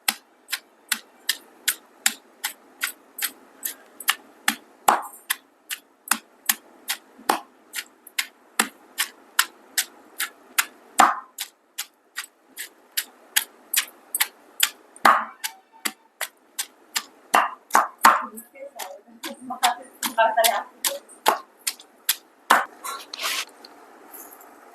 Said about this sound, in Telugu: మేమైతే ఇలానే దంచుతున్నాం.